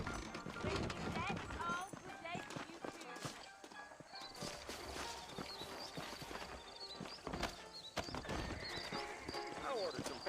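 Horse hooves clip-clop along while horses neigh and whinny in Red Dead Redemption, with people talking over the busy, lively scene.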